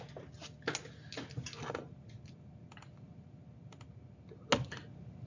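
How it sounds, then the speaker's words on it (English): Someone types on a computer keyboard in a few quiet, scattered bursts of light keystroke clicks, with one sharper tap near the end. "I gotta use a keyboard for this"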